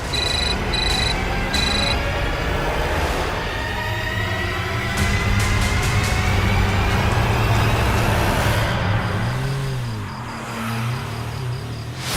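A phone ringtone trills in a few quick bursts at the start, then fades under a steady rumble of passing traffic.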